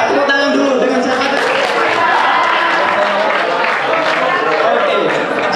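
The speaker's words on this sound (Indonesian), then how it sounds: "Tepuk tangan dulu" An indoor audience applauds steadily at an Indonesian foodpreneur event, a dense, loud wash of clapping that runs unbroken throughout with a murmur of crowd noise underneath.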